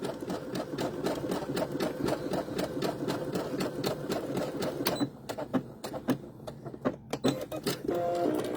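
A sewing machine stitches a wide zigzag over butted-together fabric scraps for a mug cozy, running in a fast, loud, rhythmic chatter, pausing for a few seconds with scattered clicks, then resuming.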